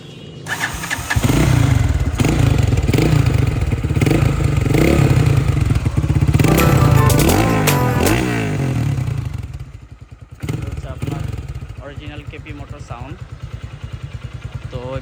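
A modified Lifan KPR 165 motorcycle engine starts and revs close by, loud and rasping, with repeated throttle blips over a steady idle, a brief dip and then a lower idle, while a person talks over it.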